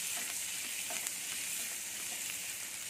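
Garlic pieces frying in melted butter, a steady close hiss and crackle of sizzling with faint stirring ticks running through it, and no talk.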